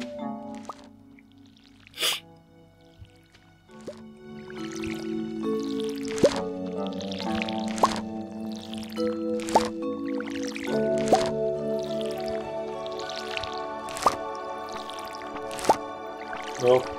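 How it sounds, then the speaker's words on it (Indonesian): Repeated watering-can splashes on crops in the farming game Stardew Valley, a steady run of short wet drips and squishes over light game music, each pour distinct and close. "Oke, udah kita siram semuanya."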